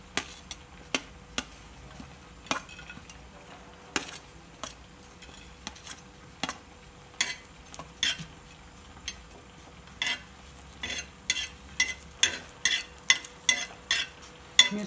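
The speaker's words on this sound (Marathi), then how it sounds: "मिरच्या भाजून झाल्यानंतर थोडंसं तेल टाकायचं, नाही तर त्या वर उडतात।" Green chilies roasting in a pan while being made into a drumstick curry, with sharp close utensil taps and scrapes against the pan repeating through a quiet background, becoming quicker and more frequent toward the end.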